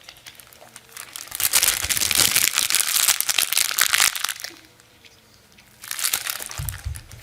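Loud crackling, crinkling noise that builds for a few seconds, drops off, then returns briefly, sounding like something being crumpled close to the ear; a simulation of a blood clot forming in the head.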